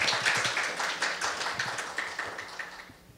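Dense applause from a conference audience for a speaker at a nuclear nonproliferation conference, steady patter of many hands that slowly thins and fades out over a few seconds.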